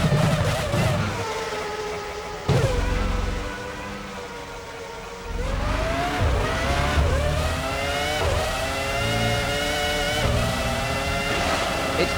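Formula One cars in a racing video game scream toward the checkered flag, their high engine notes rising and shifting in pitch as they pass, steady and loud the whole time.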